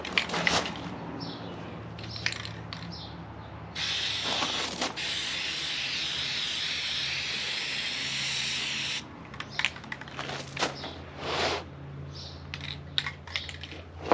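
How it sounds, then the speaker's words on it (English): Aerosol spray paint hisses in steady bursts onto pallet wood pieces for a DIY Saint Andrew's cross, with a long continuous spray in the middle and shorter blasts and clicks of handling around it, close by. "I'm gonna spray paint these"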